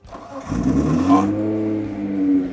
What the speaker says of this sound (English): There's a couple of engine noises